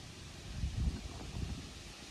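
Outdoor wind on a fishing trip buffets the microphone in a steady low rumble, swelling into a few stronger gusts midway, with no talking.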